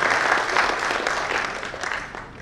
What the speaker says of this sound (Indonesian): Kita beri aplaus untuk beliau.